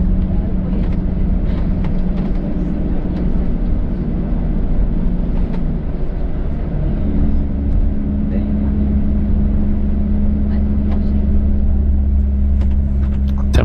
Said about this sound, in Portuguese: Como ele consegue captar bem o som do motor que tá lá no fundo do ônibus.